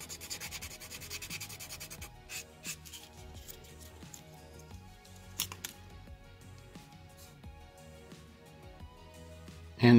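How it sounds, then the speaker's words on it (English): Sandpaper smooths parts of a plastic M3 Lee tank model kit, making faint, quiet, uneven rasping strokes and light scratches throughout with no talk. "then just remove the rest of it with some sandpaper"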